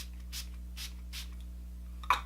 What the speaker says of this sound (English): I'm gonna spray my face.